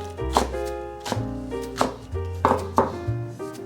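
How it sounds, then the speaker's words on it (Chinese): A knife chops bok choy on a cutting board in a steady run of about six sharp, close knocks, with no talking. "现在来切碎"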